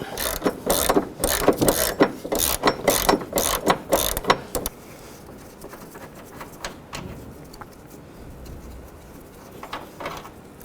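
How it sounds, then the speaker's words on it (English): A hand ratchet loosens 14 mm bolts on the engine mount bracket of a 2006-2011 Honda Civic, with loud rapid clicking bursts for about five seconds, then quieter, sparser clicks. "Now we're using a 14 millimeter for all three of these bolts on this bracket."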